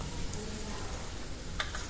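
Spices for a dal tadka sizzling steadily in a hot pan, a continuous soft crackling hiss at moderate distance with one brief sharper clink or pop near the end.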